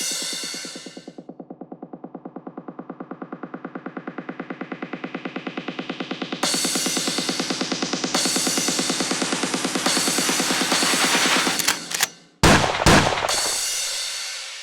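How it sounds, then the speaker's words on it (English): An electronic dance track built in Logic Pro X, with a pulsing bassline that brightens and drives on, then a sharp gunshot sound effect cracks out just before the drop, followed by loud full-band bursts. "that gunshot sound before the drop"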